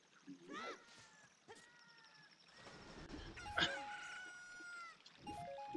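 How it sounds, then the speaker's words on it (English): Chickens in the video game Ocarina of Time cluck and crow in short bursts, layered with game jingles and effects at a low, close level, with a voice briefly audible. "Chicken hatch."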